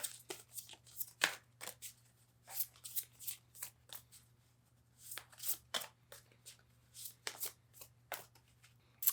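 Tarot cards are shuffled by hand in a quick, irregular run of crisp riffling and slapping bursts with short pauses between them, close and fairly quiet over a low steady hum, with no talking.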